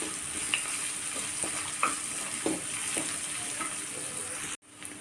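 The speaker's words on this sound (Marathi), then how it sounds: "छान परतून घ्यायचं आहे ब्राऊन होईपर्यंत आपल्याला" Coarse ginger-garlic paste sautés in a pan for a mixed cauliflower, potato and pea sabzi, giving a soft continuous sizzle with a few spoon clicks and scrapes. The sound cuts off sharply near the end.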